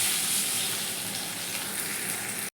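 A paste of ground spices mixed with water is poured into a pan of frying pointed gourd in oil, giving a steady, close, loud sizzle that runs unbroken until a brief cut near the end.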